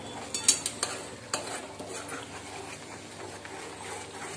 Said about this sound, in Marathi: परत छान मिक्स करून द्यायची आहे।